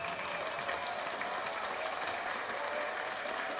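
A short, steady wash of clapping from a group, even and unbroken throughout, offered as a round of applause on a sports talk show.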